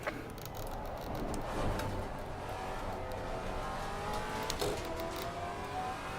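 GT3 race cars roar past in a Hungaroring race in Assetto Corsa Competizione. Engines whine and rev continuously, and sharper passing surges stand out over the steady drone.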